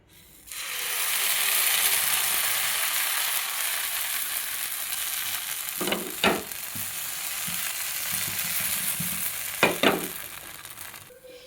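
Sponge dosa batter sizzling on a hot pan: a soft, even sizzle hisses steadily, and two short bursts of clattering, scraping utensil sounds stand out near the end, with no talking.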